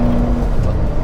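Ford Shelby GT500 track car engine pulling in third gear around 3,000 rpm, a steady close low drone with a brief tonal hum, heard alone for about a second.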